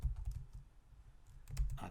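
Typing on a computer keyboard into a browser search box, quick clusters of soft key clicks at the start and end with a quiet pause between, close and fairly faint.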